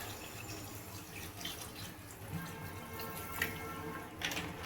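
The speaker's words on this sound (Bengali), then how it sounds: "পেঁপে আর আলুটা সেদ্ধ হওয়ার জন্য আমি একটু পরিমাণ মতো জল দিয়ে দেবো।" Water is poured into a cooking pot of papaya and potato, a faint continuous trickle and splash with light drips, quiet and close.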